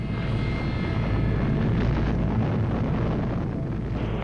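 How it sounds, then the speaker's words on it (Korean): Loud, dense roar of the Space Shuttle Challenger exploding in mid-air, heavy low rumble and broadband blast noise sustained steadily throughout with no voices. "챌린저가 공중 폭발했다는 소식입니다"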